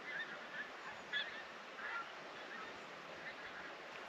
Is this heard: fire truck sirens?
no